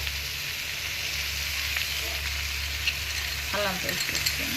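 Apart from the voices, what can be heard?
tomatoes sizzling as they're added to a frying pan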